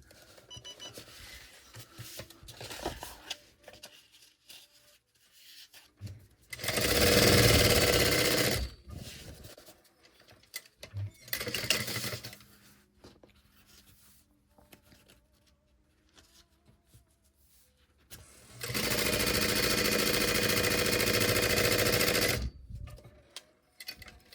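Sewing machine back stitching a quarter-inch seam around a backpack pocket in two loud sustained bursts of rapid needle clatter, one short and one longer, separated by quieter handling noises and fabric rustling.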